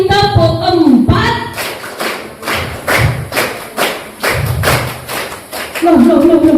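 Children at an online Indonesian storytelling session clap a counted rhythm in two quick groups of four, the thumping claps loud and close, with voices speaking before and after the clapping.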